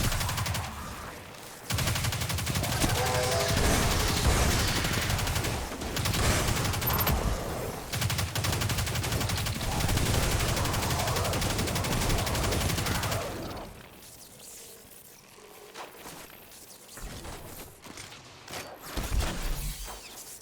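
Heavy gunfire and rocket blasts from Destiny 2 combat in a Legend Lost Sector, loud and dense for about thirteen seconds, then dropping to sparse, quieter shots and impacts.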